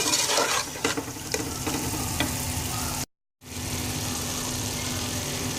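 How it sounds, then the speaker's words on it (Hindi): Mutton keema masala fries with coriander-mint paste, fresh coriander and a green chili. A steady close sizzle has scattered stirring clicks early on, then cuts out briefly before resuming. "अब इसको अच्छी तरह से भून लूँगी।"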